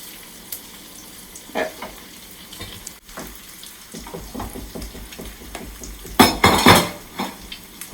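Meatballs sizzle and fry in a home kitchen pan while utensils clatter against cookware, with a louder burst of scraping and sizzling near the end.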